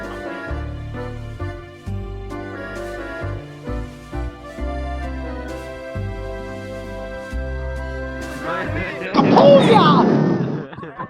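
An explosion goes off in the VRChat game inside a virtual ice cream cafe, bursting loud and broad near the end after a stretch of music and game sounds.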